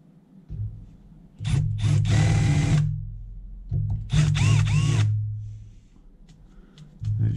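A thread-repair tool spun by a power drill works the thread of a chopped bolt on a Classic Mini, loud whirring bursts with grinding bites, stopping and starting three times.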